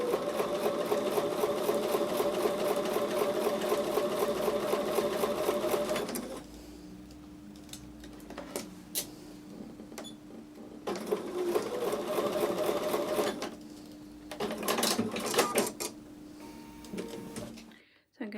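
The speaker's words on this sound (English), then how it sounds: "take those over to the sewing machine and sew with a 1/4 inch seam" A sewing machine sews a quilt block with a quarter-inch seam in fast rhythmic stitching bursts, pausing and restarting a few times, close by with some quiet handling noises between runs.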